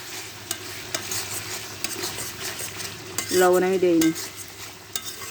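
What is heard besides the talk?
frying spices with chilli powder and turmeric in a pan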